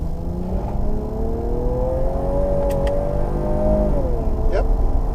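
The engine of a Ford Edge ST hums loudly inside the cabin as it accelerates under paddle-shift control, with the engine pitch climbing steadily, then dropping at a gear change, and a voice briefly heard over it.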